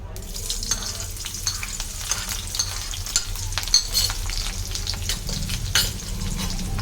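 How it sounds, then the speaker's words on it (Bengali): Onions fry in leftover oil in a pan, making a loud, close, steady sizzle with frequent stirring scrapes and crackles and no speech. "এই তেলের উপরেই আমি পেঁয়াজ দিয়ে দিচ্ছি"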